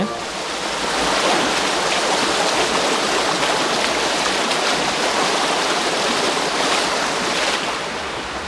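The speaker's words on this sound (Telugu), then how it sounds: "ఇప్పుడైతేనే చూస్తున్నారు కదా వాటర్ ఫ్లోయింగ్ ఏ విధంగా ఉందో ఇక్కడ" Godavari river floodwater rushes past at Appanapalli village, a loud, unbroken roar of flowing water that fills the whole stretch without a pause.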